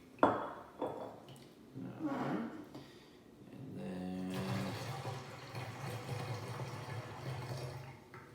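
Champagne is poured into an Exsun dispenser, giving a steady rushing, splashing liquid flow that builds after a few seconds of handling noises and continues close and fairly loud to the end.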